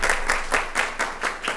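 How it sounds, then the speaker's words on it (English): Applause breaks out at a council work session, a steady patter of many hands clapping at moderate distance with rhythmic swells, no talk over it. "Round of applause."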